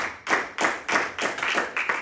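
Congregation clapping in rhythm during a church sermon, about seven loud, evenly spaced claps in two seconds, each a broad slap with a short decay, close and with no voices.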